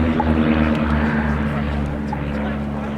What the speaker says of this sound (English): Just 145 horsepower from that Gypsy Major engine, so it's a low-powered, relatively low-performing engine.